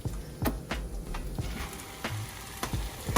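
Peeled pumpkin fries in a pan with garlic and onion, sizzling close up while a spoon stirs and squishes it, with irregular scraping knocks against the pan.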